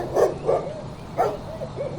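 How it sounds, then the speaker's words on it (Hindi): Dogs bark loudly from street corners in a near-empty lane, several short sharp barks in quick bursts with gaps between, fairly close. "गली के कोनों से कुत्तों के जोर जोर से भौंकने की आवाज आ रही थी"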